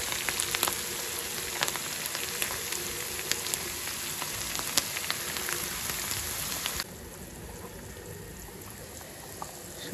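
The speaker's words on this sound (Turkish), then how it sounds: "Soğanla salçamızı da kavurduk şöyle." Onion and tomato paste fry in a pan with a steady, close sizzle and scattered pops, dropping to a quieter, softer sizzle partway through.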